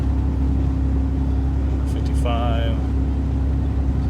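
A Ford Tremor pickup truck with 3.31 gears drives at light throttle, its engine and road noise a steady low drone from inside the cab, with a brief voice over it.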